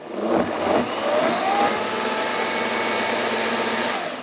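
A blender whirs steadily, mixing vegan mozzarella with psyllium husk powder; a loud, even motor drone with a few brief pitch shifts at the start as the thickening mix churns.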